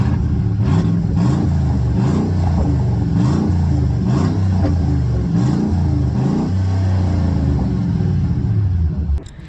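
A custom Ford Lobo pickup truck engine revs repeatedly in rising, throaty surges through a leaking exhaust, loud and rumbling, with a raspy exhaust note, before cutting off at the end.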